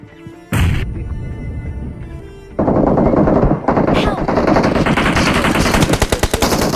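Rapid automatic gunfire in a battle royale video game, loud bursts of shots cracking in quick succession, with a sharp blast early on and dense fire continuing through most of the stretch.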